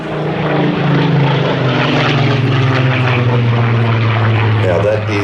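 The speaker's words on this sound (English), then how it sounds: "the aircraft departing back to its home base at East Midlands Airport" A Supermarine Spitfire PR.XIX departs from an air festival in the Midlands. Its propeller engine gives a loud, steady, droning roar close by that holds at an even level throughout.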